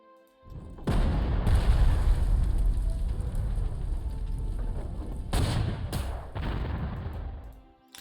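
Artillery fire from the Panzer Corps 2 strategy game, a heavy, sustained rumbling barrage of booms that rolls on for several seconds with sharper blasts partway through, loud and close with no talking.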